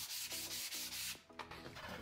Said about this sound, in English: I just take sanding block with some 120 grit on there.